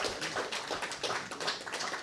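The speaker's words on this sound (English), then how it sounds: "I want to give this man a round of applause as he comes up to the stage" A live audience applauds at a SXSW Casa Mexico talk as a presenter walks up to the stage, steady dense clapping filling the room for about two seconds with no voices over it.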